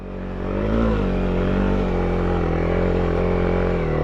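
A Honda CRF small adventure motorcycle rides up a snowy mountain, its engine droning loud and close with steady revving and a slight rise in pitch, alone without voices.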